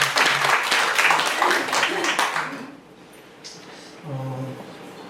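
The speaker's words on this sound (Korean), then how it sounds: "오늘 수고하신 분들 수고의 박수 한번 칠까요?" Members of a Korean church congregation applaud volunteers at a Sunday service, a dense burst of clapping for about two and a half seconds that fades out, followed by a quiet gap and then a speaking voice.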